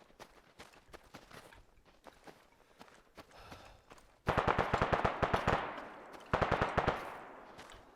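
Bursts of rapid gunfire from an ArmA military game battle, sparse and lighter at first, then two loud, dense volleys of sharp repeated shots near the end.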